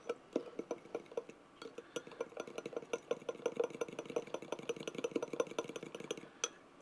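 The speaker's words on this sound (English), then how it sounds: "We're supposed to mix it until it's just not clumpy anymore" Batter being mixed by hand until smooth, with a steady rhythm of quick soft taps and scrapes of the utensil against the bowl, close and fairly quiet.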